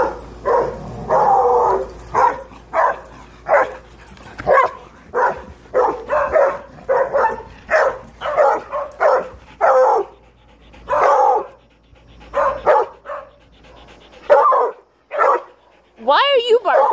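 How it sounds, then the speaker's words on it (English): A small dog barks repeatedly in short bursts and yips, with some whimpering, close and loud, the barks coming in an uneven rhythm with brief pauses between them. "Why are you barking?"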